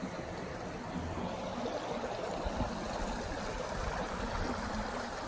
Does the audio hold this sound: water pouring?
yes